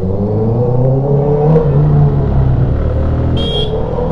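A Honda CBR650 motorcycle with an Akrapovic full-system exhaust revs hard, its loud, continuous engine note climbing and holding a deep, steady roar throughout.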